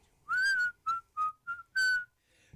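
A person whistles a short tune of five clear, separate notes, close and alone against a quiet background, ending with a faint breath.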